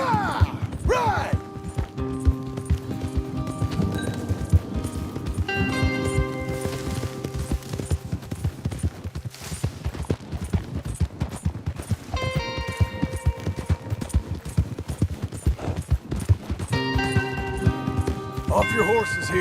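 Galloping horse hooves in the Red Dead Redemption 2 video game, a steady clip-clop running under loud orchestral game music, with voices and other game noises throughout.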